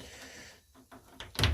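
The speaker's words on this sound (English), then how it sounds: "see if I can open the door" A Trabant 601 car door is worked open by hand, with no handle fitted: a short quiet fumble, then a sharp metallic clunk and rattle as the door releases near the end.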